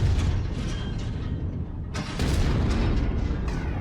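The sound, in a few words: mech ammo explosion in the video game MechWarrior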